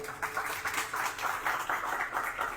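Audience applause at an innovation event in Gramado, steady mid-distance clapping from a crowd lasting the whole stretch at moderate level without letting up.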